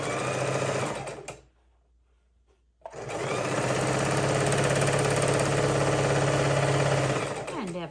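A sewing machine stitches quilt blocks together, its rapid mechanical whir running fast and close, stopping briefly for about a second before starting up again and running steadily to the end.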